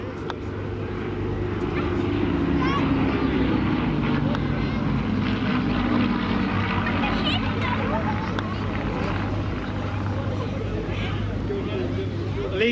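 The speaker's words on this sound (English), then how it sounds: "the very historic Spitfire Mark V, and the aircraft trailing it is PZ-865, the last of the many." Historic Spitfire Mark V and the Hurricane PZ-865, the last one built, fly past at a Battle of Britain Memorial Flight display, a steady propeller engine drone lasting throughout beneath crowd babble and a commentator's voice.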